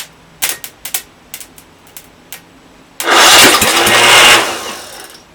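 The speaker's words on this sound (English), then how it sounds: "I hate this starter." A starter motor cranks an old engine after several brief clicks and taps, then whirs loudly and steadily for over a second before cutting off.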